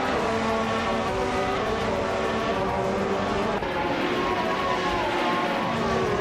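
A Red Bull RB13 race car engine roars steadily in a racing video game, loud and continuous throughout with a sustained high-revving tone and no talk.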